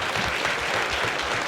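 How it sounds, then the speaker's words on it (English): Brief burst of audience applause at a convention documentary screening, dense steady clapping from a crowd. "I want to give a big round of applause to Brent here"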